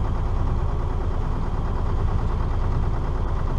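A cruising boat's engine runs at a steady, unbroken drone near the approach to Port Grimaud, loud and constant throughout with no talk over it.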